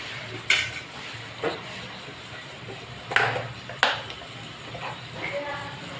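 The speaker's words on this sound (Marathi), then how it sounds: "थोडंसं चवीनुसार मीठ घालायचं आहे आणि चांगली परतून घ्यायचं आहे हिला आपल्याला" Masala with salt is sautéed in a pan for Kolhapuri misal, giving a low steady sizzle broken by several sharp spoon scrapes and clinks on the metal, with a voice speaking in the background.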